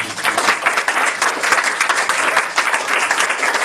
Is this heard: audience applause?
yes